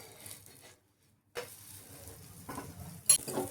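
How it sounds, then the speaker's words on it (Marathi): Vegetable omelette browning on both sides in a pan, giving a soft, close sizzle that drops out for a moment, then resumes with light scraping and a sharp utensil clink near the end. "आता आपल्याला हे दोन्ही बाजूनी छान खमंग भाजून घ्यायचंय"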